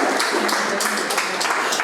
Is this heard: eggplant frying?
no